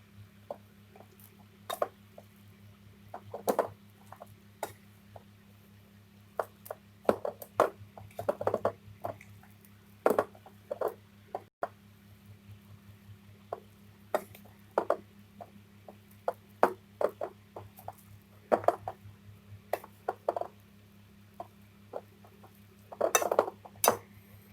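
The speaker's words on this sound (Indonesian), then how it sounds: "Kita aduk." A utensil repeatedly clinks and scrapes against a bowl while flour is stirred into an egg white and cheese batter, irregular close taps over a steady low hum.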